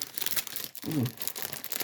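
Plastic bags packed with herbs and greens from a church food handout crinkle and rustle as they are handled, with a brief crackling burst in the middle. The sound is close and fairly quiet, with no speech.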